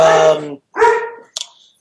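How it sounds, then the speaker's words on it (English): Dogs barking in two close, loud bursts, followed by a short high yip, with a voice partly overlapping the barks. "now my dogs are barking."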